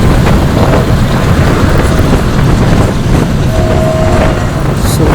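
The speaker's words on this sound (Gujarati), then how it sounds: "શું ચાલે છે મારી બાજુમાં જ ટ્રેન." A train runs alongside a roadside in Kutch, its steady broadband rumble mixed with heavy wind buffeting on the microphone, with a faint tonal whine midway through.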